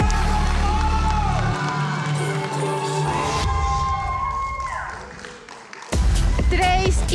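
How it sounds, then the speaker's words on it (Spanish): A crowd at a live esports match cheers for the Leviatán team, a loud roar of shouting and whooping that swells and dips beneath excited commentary and in-game sounds. "qué increíble escuchar al público cómo vitorea a la escuadra de Levia Tan"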